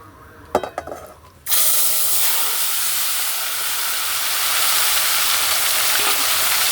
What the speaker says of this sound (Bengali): গরম তেলে মেখে রাখা চিকেনটা দিয়ে দেব